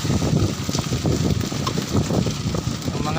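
Strong, gusty typhoon wind roars and buffets the microphone continuously in Isabel, Leyte, with rumbling low noise and no clear voices.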